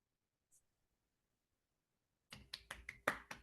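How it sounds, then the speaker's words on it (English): A few participants on an online video call clap over unmuted microphones after silence, producing a brief, sharp burst of hand claps near the mic that ends within about a second. "let's all please unmute ourselves so that we can clap together for our speaker"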